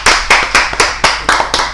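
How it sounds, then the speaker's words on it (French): Rhythmic hand claps greet a quiz's man of the match, about seven sharp, evenly spaced claps, fairly loud and close, with no talking over them. "Ça mérite acclamation."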